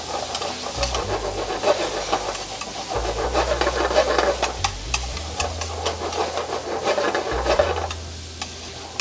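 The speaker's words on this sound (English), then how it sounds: "I'm going to add the shrimp. Here we go. I got about 12 shrimps with the tails on. Go saute." About twelve tail-on shrimp sauté in a hot pan for shrimp Fra Diavolo, giving a steady, close sizzle with a scraping, stirring texture throughout and no talking.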